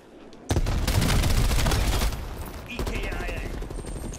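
Rapid automatic gunfire bursts loudly in a Call of Duty Black Ops Cold War beta match on the Satellite hardpoint map, a dense rattling barrage with booming shots, then a lighter second burst of fire.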